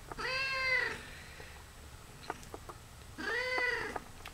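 A cat meows twice, two clear drawn-out calls separated by a quiet pause with small clicks and rustles, close to the listener.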